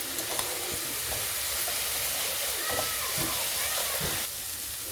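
Masala spices fry in a small amount of oil used for frying fish and potatoes, giving a steady close sizzle with occasional stirring scrapes, while a voice speaks faintly at times.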